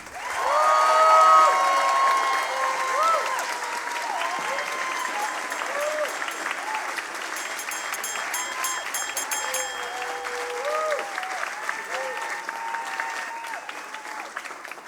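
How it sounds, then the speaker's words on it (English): A large audience at a Berlin science slam applauds to vote for a contestant, with sustained loud, dense clapping that swells early, then holds steady with scattered cheers and voices in the crowd over about fifteen seconds. "Please, when you think he should win, applaud now"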